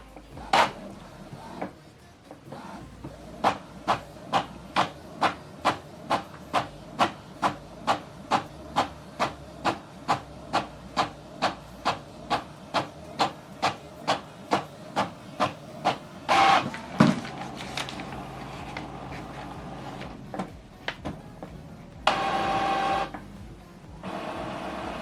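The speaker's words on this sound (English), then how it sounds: "Preparing to print the second page." Epson XP-5200 inkjet printer running a double-sided print job, with a steady train of regular mechanical pulses about twice a second for most of the clip, then louder feed and carriage clunks and a paper-handling whir near the end, close and alone.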